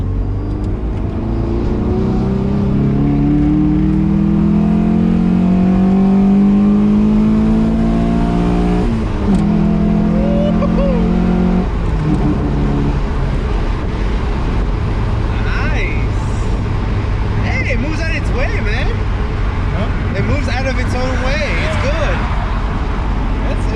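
Engine of a 1995 Honda Accord with an F20B swap pulls through the gears on the road, rising revs climbing and dropping with each shift, under steady cabin road noise while occupants talk.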